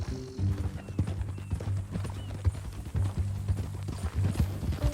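Horse hooves clip-clop in the video game Red Dead Redemption 2, a steady run of close hoofbeats with a snort or whinny, under game music and ambience.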